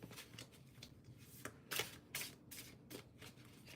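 Tarot and oracle cards being shuffled by hand, a series of quick papery riffles and soft slaps coming in uneven bursts, close and fairly quiet, with no talking.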